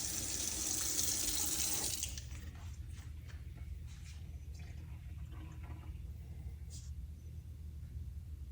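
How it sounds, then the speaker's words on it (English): Liquid bleach poured into a drink container at home, a steady close splashing pour for about two seconds, then a faint low rumble with small clinks. "Can't believe this lady's pouring bleach in there"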